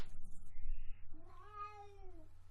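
A cat lets out a single drawn-out meow, clear and fairly close, over a quiet background hum.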